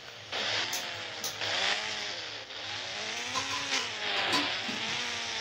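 A super bike engine in a 3D video game roars and revs continuously, its pitch rising and falling in sweeping waves with a few sharp clicks layered on top, loud and close with no voices.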